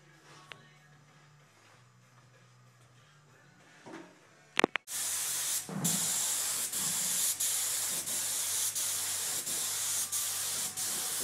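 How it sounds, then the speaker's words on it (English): Steady, loud hiss of aerosol mold release sprayed onto a carbon fiber mold begins after a few quiet seconds and a couple of clunks, continuing with brief rhythmic pauses between bursts. "spraying mold release on the mold"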